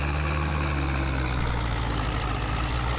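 A tractor engine idles in Farming Simulator 22, producing a steady, loud, low rumble that continues unchanged throughout without any voices.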